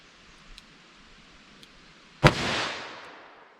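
A single sharp gunshot from a .357 Magnum revolver firing Federal Hydrashok ammunition at an outdoor range, close and loud, with a short ringing decay after the crack.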